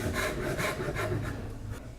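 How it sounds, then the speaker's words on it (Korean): A hand saw cuts the sloped part of a female tenon in wood for a traditional Korean joint, with steady back-and-forth strokes roughly every half second, close and clear. "암 장부 물매 부분을 톱질해 줍니다."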